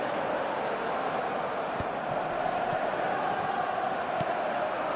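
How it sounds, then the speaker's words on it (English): A stadium crowd in the football video game eFootball 2026 gives a steady, loud, dense roar that swells slightly without clear breaks. "the crowd are reacting to that now"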